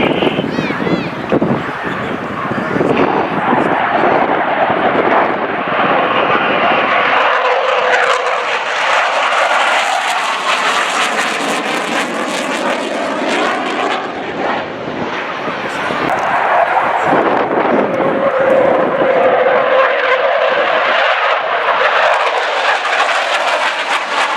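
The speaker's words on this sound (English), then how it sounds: "A sharply defined bruiser of a fleet defence fighter weighing in at 18 tons." An 18-ton twin-boom fleet defence fighter jet flies past at the RNAS Culdrose Air Day in July 2013, its loud, steady roar swelling and easing over more than twenty seconds while a commentator talks throughout.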